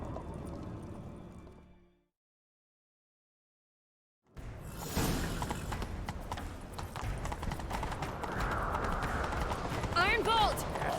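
Horse hooves gallop in The Witcher 3 in a steady rapid clip-clop over ambient game sound, starting after a short silence, with a voice briefly heard near the end.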